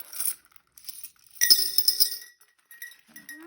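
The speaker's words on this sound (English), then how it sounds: "I have a little bit of change built up in my wallet to empty into my glass jar." Loose coins tip from a wallet into a glass jar, giving several bright clinking and jingling bursts of metal on glass, close up and otherwise quiet.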